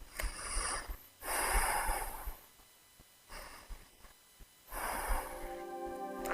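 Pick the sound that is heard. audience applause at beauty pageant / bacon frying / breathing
breathing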